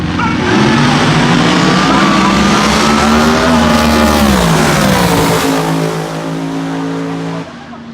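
Race cars roar loudly on the track at MIR, engines revving hard with a sustained howl that sags in pitch near the end as the cars pass.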